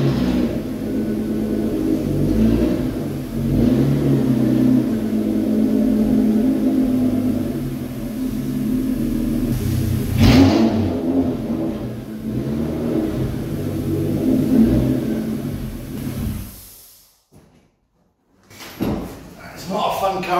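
A Toyota MR2 engine idles and is revved as the car is slowly reversed, a continuous close rumble with a few knocks and bumps before it cuts off near the end.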